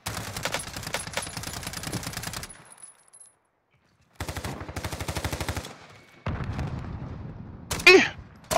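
Light machine gun fire in a first-person shooter video game: rapid sustained bursts, one long stream, a pause, then another burst, with further game noise and a sharp shot near the end.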